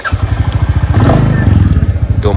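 Motorcycle being ridden close by, a loud, pulsing low engine thump with a rhythmic idle-like beat that swells slightly, with a voice speaking over it.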